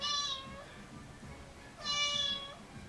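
A cat meows twice, two drawn-out, clear cries about two seconds apart, fairly close and loud over a quiet indoor background.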